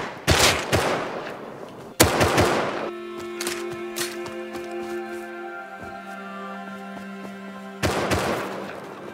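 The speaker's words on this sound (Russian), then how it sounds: "Он с крыши стреляет." Gunfire rings out in the video game Rust as a player shoots from a rooftop: two loud bursts of rapid shots, a lingering tonal ring, then another burst near the end.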